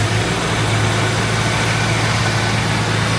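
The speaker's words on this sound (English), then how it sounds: "I'm gonna try to manually throttle it a little bit" A Jeep engine that won't run right, with the choke on, is throttled by hand. It gives a loud, steady, rough rumble close by, with no clear rise in revs.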